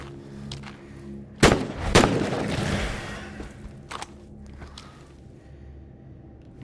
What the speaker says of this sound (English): Okay, that's just the bullets.